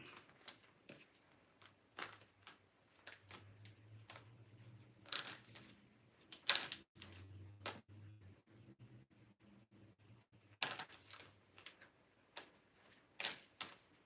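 Playing cards being shuffled indoors: quiet, irregular bursts of crisp riffling and tapping, with short pauses between shuffles and a soft low hum underneath.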